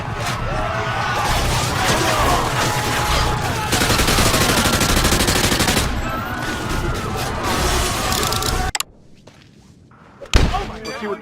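Heavy automatic gunfire in a video game as civilians are gunned down, dense sustained bursts of shots and impacts that cut to near silence before a sharp final blast.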